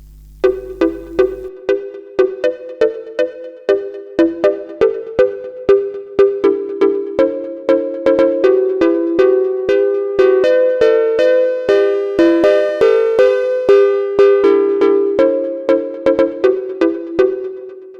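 Plucky chord stabs programmed on an Elektron Analog Rytm drum machine repeat in a steady rhythm, bright and ringing, gradually layering into a fuller, sustained chordal pattern.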